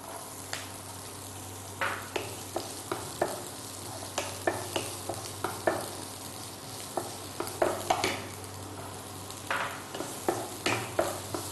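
Onions sautéing in oil, a soft constant sizzle beneath frequent rhythmic scraping and clinking of a spoon stirring against the pan, close by with no talking.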